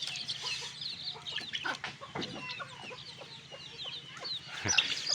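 A hen clucks among her young chicks on a Bangladeshi backyard, with repeated close clucks and thin chick peeps scattered over a low steady background hum, no talking.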